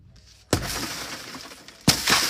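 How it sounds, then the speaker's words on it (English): Glass window being smashed: two sharp, loud shattering crashes about a second and a half apart, each followed by a brief spray of scattering fragments, with no talking. "They broke the glass."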